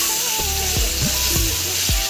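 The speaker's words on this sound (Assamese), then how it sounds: "অকণমান পানী দি দিম ভাজি হ'বলৈ দিব" Chicken curry fries in a pan with a constant close sizzle, broken by a few short stirring scrapes, and no talking.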